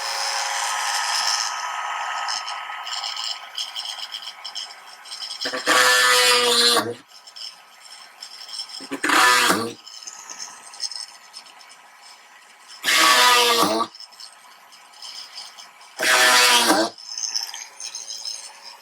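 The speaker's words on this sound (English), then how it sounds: "I've put a wider drill bit in. So we should be able to go straight down through, widen the hole very, very quickly." A drill with a wider bit bores through holes in the hull of a 1/80 scale Amati Endeavour model ship, four short loud whining bursts of a few seconds each between quieter stretches.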